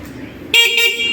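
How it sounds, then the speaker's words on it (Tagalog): A 2024 EuroMotor Rock R 125 V2 motorcycle horn gives one loud, bright blast that follows a brief moment of low background noise. "Sir, paki-check nga po natin yung busina."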